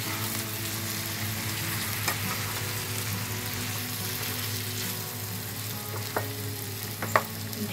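Prawns with pointed gourd get stirred in a pan, a steady close sizzle of frying with occasional scrapes and light knocks of the utensil against the pan.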